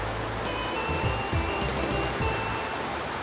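Steady broadband rush of a waterfall in a rainforest, continuous and fairly loud throughout, with a faint low rumble of water underneath and no talking.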